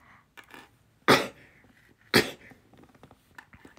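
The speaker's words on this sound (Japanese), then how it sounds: "待って、くしゃみが出そう。" Two sharp sneezes close to the mic, about a second apart, with quiet rustling and faint sounds around them.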